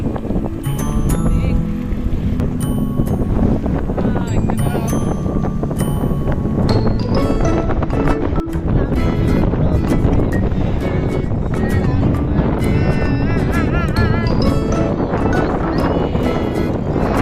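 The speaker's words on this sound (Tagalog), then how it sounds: "Lakas nga lang yung hangin." Strong wind roaring across the microphone during a bicycle ride along a wide bypass road, a steady loud rush with traffic and a voice briefly heard beneath it.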